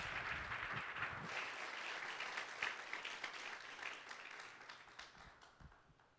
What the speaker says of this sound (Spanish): Vamos a recibir con un fuerte aplauso a nuestro hermano Santiago Leiva